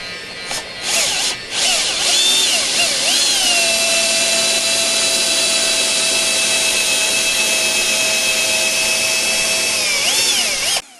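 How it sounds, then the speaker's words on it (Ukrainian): A close, loud cordless drill with an old bit whining at a steady high pitch for several seconds as it drills out Nissan Micra K12 headlight sealant, pitch wavering at start and end. "беремо шурупокрут, якесь поганеньке сверло старе, яке не потрібно"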